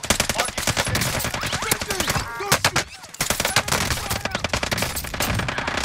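A Finn LMG firing in a video game shootout: loud, rapid automatic bursts close up, with a brief pause before another long string of shots.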